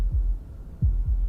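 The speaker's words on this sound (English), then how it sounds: "That was the sound of a heartbeat," Heartbeat sound effect from a visual novel video game: deep, low thumps, a single beat followed by a closer double beat, loud and isolated against a quiet hum.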